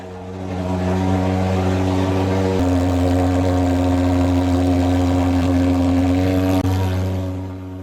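A portable fogging machine sprays insecticide smoke in a Samarinda neighbourhood during a dengue outbreak, its engine a loud, steady droning hum that swells in, holds constant for several seconds, then tapers off.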